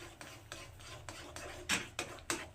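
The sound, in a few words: stirring semolina into boiling water in a pot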